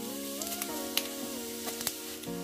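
Cumin seeds sizzle in about two spoonfuls of hot oil for an Indian ginger-garlic pickle, a soft steady crackle with sharp pops and tonal whistling squeaks, close and fairly quiet.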